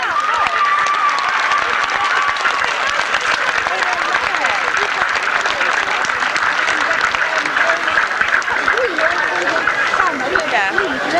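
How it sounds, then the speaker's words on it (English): A large outdoor crowd at a grasstrack racing event cheers and applauds the racing crews, a dense, loud, steady wash of clapping and shouting that holds for the whole stretch without a break. "One last cheer for them all."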